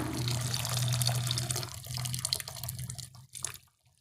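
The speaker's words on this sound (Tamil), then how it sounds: "இப்போ நாம் புளி தண்ணியை சேர்த்துடலாம்" Tamarind water poured into a simmering prawn and plantain gravy, a steady close liquid splash and trickle for about three seconds that thins into a few drips before going quiet.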